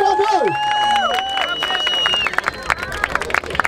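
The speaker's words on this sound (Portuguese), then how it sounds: "Uma salva de palmas pra quem fortalece o Corre Independente aí, certo?" A crowd at a rap battle final claps and cheers in a dense burst, with whistles and voices over the noise, before the sound breaks into scattered individual claps.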